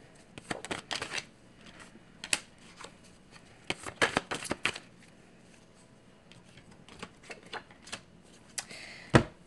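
Tarot cards shuffled and drawn, heard as close, crisp riffling bursts and sharp flicks of card stock in irregular clusters against a quiet room.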